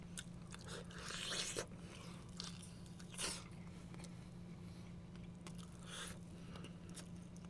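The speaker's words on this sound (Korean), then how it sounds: "자, 이제 치킨을 뭐 후식으로 잠깐 간단하게 후식 좀 먹을게요" Crunchy fried chicken is bitten and chewed during a pizza-and-chicken mukbang, giving several loud, close crisp crunches in uneven bursts with quieter chewing between and no talking.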